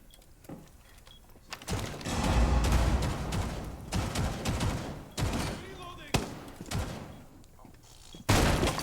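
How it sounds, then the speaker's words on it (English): Gunfire from a Rainbow Six Siege pro league match on the Kafe map, with bursts of rapid automatic shots and single cracks spread through the stretch, punchy and close, alongside game noise and commentators talking. "Shots coming out here from LFO, from Cocktail."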